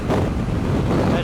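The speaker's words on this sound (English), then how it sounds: "It's about some of the worst wind I've had so far." Strong, gusting wind on a cold 18-degree day at a campsite in Canada, roaring loudly and continuously into the microphone as a close buffeting rush.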